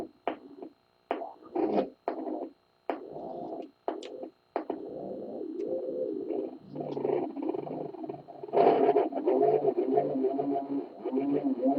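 Circuit-bent Moog device driving a very slow tape deck, giving a deep ambient sound: stuttering low, warbling bursts at first, then a continuous murky drone that swells louder near the end.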